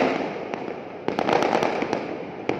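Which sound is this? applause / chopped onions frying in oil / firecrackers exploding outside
firecrackers exploding outside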